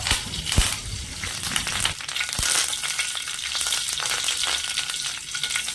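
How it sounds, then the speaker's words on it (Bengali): Curry leaves dropped into hot oil in a pan sizzle and crackle steadily, with a couple of sharp pops near the start and a continuous, fairly close frying hiss throughout. "এখানে কয়েকটা কারি পাতা দিয়ে দিলাম খুব সুন্দর করে ভেজে নেব"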